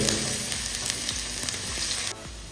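Ginger and garlic fry in hot oil for a green chilli curry, giving a dense, close crackling sizzle with small pops and stirring ticks, steady and loud before easing slightly near the end, with no talk.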